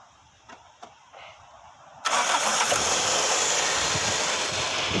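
An old Toyota engine starts after a few faint clicks and knocks, catching abruptly and then settling into a steady, close, loud idle.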